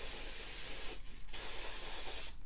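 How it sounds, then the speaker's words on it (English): Mod Podge spray sealer misting onto a spoon for a ladybug craft: two loud, close, steady hissing bursts separated by a brief pause, then the spray cuts off. "Go ahead and grab your Mod Podge spray and spray"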